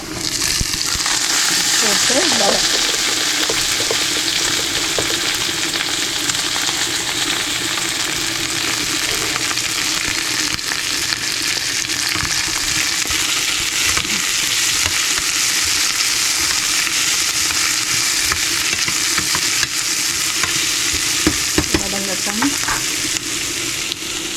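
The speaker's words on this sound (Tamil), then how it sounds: "வெங்காயம் கொஞ்சம் வதங்க அரைச்சி வச்சுக்கிற தக்காளி ஊற்றியாச்சு இதை வந்து வதக்கலாம்" Onions and ground tomato sautéing and sizzling steadily in a pan, with frequent stirring scrapes and faint voices in the background.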